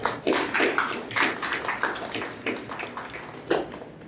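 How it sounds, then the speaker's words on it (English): A round of applause from the audience at a Toastmasters club meeting, a moderate burst of hand clapping that swells in loose waves and fades, with no voices over it. "A big round of applause."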